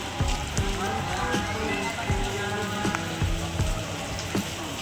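Rain falls steadily on surfaces around Kanak Bhawan in Ayodhya, with scattered drips and occasional sharper drop impacts throughout, while someone speaks over it.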